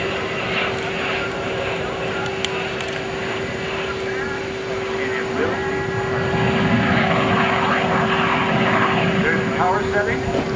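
US Navy F/A-18C Hornet jet flying a demonstration display, heard from the cockpit as a steady loud engine roar with a constant tonal hum that swells slightly toward the end, with radio-style talk over it.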